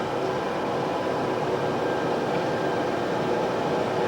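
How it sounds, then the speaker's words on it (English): An old-fashioned streetcar rumbles past on its tracks in Zagreb, a steady low rolling roar with faint metallic whine, heard at moderate distance without speech. "We only have good old-fashioned streetcar."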